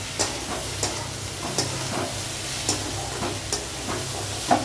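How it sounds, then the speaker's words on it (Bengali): A breakfast dish is stirred in a hot pan. A spatula scrapes the pan at a steady rhythm of about one stroke per second over a constant low sizzle, with no talk. "আর একটু ভালো করে নাড়াচাড়া করে নেব"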